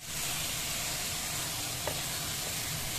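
Chicken frying in a pan for chicken jalfrezi, a dense, even hiss of hot oil sizzling close up for the whole stretch, with a faint clink partway through and no talking.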